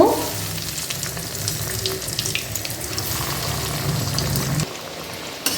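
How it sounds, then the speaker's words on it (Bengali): Chicken biscuits frying in hot oil in a pan, a steady dense sizzle and crackle that runs the whole time, with a brief clink near the start and a slight drop near the end. "তেলটা গরম হয়ে গেছে, এবার আমরা একে একে ভেজে নেব।"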